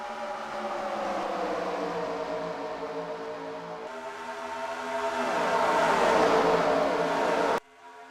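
Race cars roar side by side in a video game race at Homestead Miami, engines droning continuously and building louder before cutting off abruptly.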